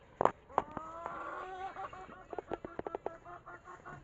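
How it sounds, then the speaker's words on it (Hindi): Roosters squabble nearby, with sharp squawks at the start followed by a series of short clucks and pecking sounds. "देख लड़ाई चल रही है इधर मुर्गों की यार, आपस में"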